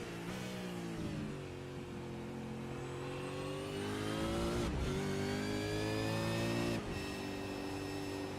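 A Supercar engine in a sim racing game at Road America revs hard and steadily under progressive throttle, with two quick dips at the shifts before climbing again, loud and continuous throughout.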